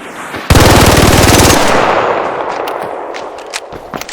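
Bobcat gun in a video game firing in one rapid, dense, loud automatic burst, followed by fading reverberant tail and a few scattered shell or impact clicks.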